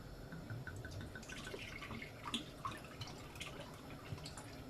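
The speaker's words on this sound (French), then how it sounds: "je vais mettre moitié eau de fleur d'oranger" Orange blossom water poured for Kalb El Louz, a soft, quiet trickle with a few drippy splashes into the mixture at close range.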